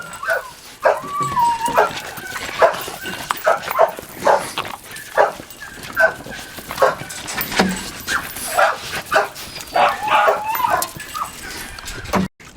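Several dogs barking and yipping outdoors, with sharp repeated barks coming every second or so, mixed with whimpers and higher yelps over several seconds.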